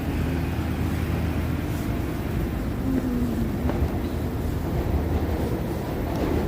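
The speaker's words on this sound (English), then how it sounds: "And subway trains, you can hear them down below." New York City subway trains rumble below the street near Grace Church, a low continuous roar under steady city traffic ambience, with no clear peaks or pauses.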